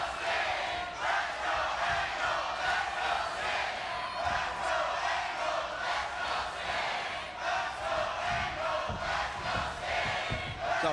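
Wrestling crowd at the Impact Zone roaring steadily through a Hardcore Justice main event title match between Kurt Angle and Sting, a dense wall of cheering and shouting with no letup.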